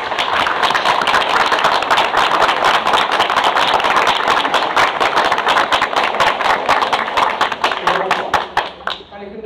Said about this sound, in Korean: 빨리 끝내라고 박수 치는 것 같아요